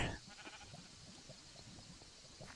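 A goat in Minecraft bleating, a quiet wavering cry over a soft steady background, heard alone without talk.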